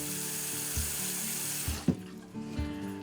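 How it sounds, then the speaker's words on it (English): Water runs steadily from a tap into a pan for steaming gumboots (chitons) in Alaska, a continuous close hiss with a few clanks of metal along the way. "You need to put some water in a pan"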